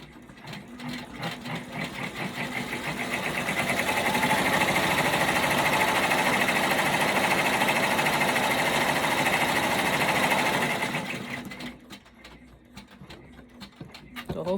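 An embroidery machine stitches down applique pieces with a fast, steady mechanical rattle that ramps up, holds for several seconds, then stops, followed by quieter handling noises.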